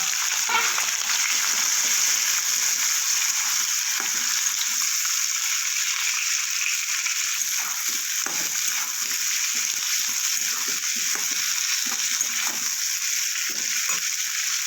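Slit green chillies and chopped onion fry in oil spiced with bay leaf, whole cumin and garam masala, giving a loud, steady sizzle that holds for the whole stretch with faint stirring scrapes and no voices.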